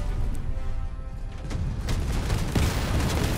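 A video game explosion goes off as a deep, heavy boom, with rumbling crashes and bursts layered over a dense, loud low roar throughout.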